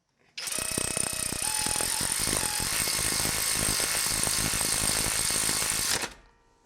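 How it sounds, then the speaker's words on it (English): A Kobalt 24V cordless ratchet whirs in one loud, continuous burst of about six seconds, close up, while installing brake slide pins on a 1990 Toyota Corolla, then cuts off abruptly. "One more quick test for this ratchet on a different vehicle."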